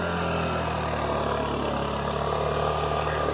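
A car stuck in mud near Ramdara temple runs its engine hard, a loud continuous close engine roar held at high revs throughout.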